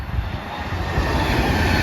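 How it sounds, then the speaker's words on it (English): An Avanti West Coast express train from Edinburgh to London Euston rushes past at Bletchley station with a loud, steady roar and a deep rumble of wheels on track, close by and continuous. "here's Edinburgh London Euston Avanti West Coast."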